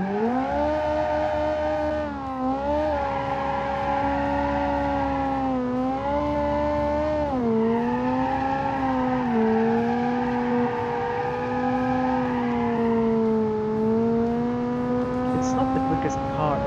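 A rally car in BeamNG.Drive lapping the Automation test track on tarmac, its engine droning loud and steady with rising and falling pitch through gear changes, a voice talking over it.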